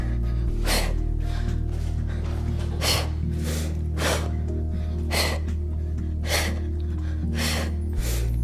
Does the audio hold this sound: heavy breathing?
yes